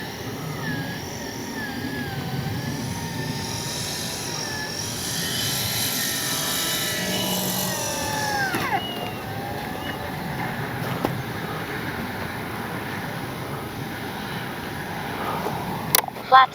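A FlightLine 1600mm P-51D Mustang RC plane drones steadily overhead with a rising and falling engine whine, while someone talks intermittently throughout.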